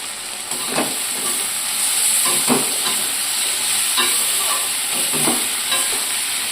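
Ginger garlic paste frying in a pan with capsicum and tomatoes, a loud steady sizzle and hiss broken by several scraping stirs of the spatula at irregular intervals, close and without any talk.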